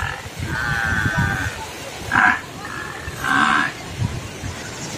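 A buffalo that has fallen over lets out two or three drawn-out lows in a windy outdoor storm, fairly close, with people talking in the background between the calls.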